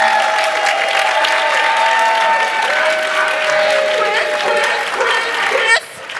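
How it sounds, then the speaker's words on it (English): An audience applauds at the Miss Pride South Florida 2015 pageant during the evening gown category, with sustained, dense clapping and some cheering over held piano notes, all continuing for several seconds before a brief dip. "And while you're applauding, make some huge noise for our pianist, Mr. Christopher Hamlin."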